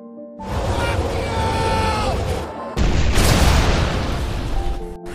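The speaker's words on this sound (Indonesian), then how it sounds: "Bruno pun mati dengan meledak" A loud, close bomb explosion from a war film booms with a heavy low rumble, followed by a second roaring blast and crackling debris.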